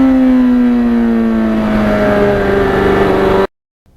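A 1991 Yamaha FZR 1000 motorcycle's engine drones loud and close, a steady high-revving tone that slowly sinks in pitch before cutting off abruptly.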